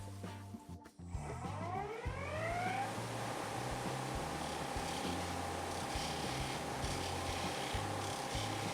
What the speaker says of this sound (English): Using the spindle gouge.